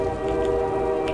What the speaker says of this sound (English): I must stop this train.